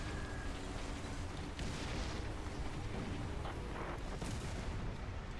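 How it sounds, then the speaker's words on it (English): Artillery pounds a tank battlefield in the game War Thunder, a continuous heavy rumbling roar with a few deeper booming impacts layered within. "this artillery fire might kill me"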